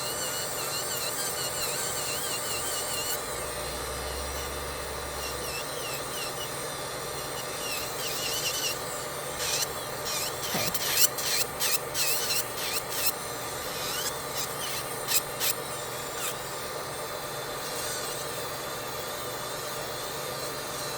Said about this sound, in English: I'm going to go back over the natural nail with a sanding band because I just want to scuff things up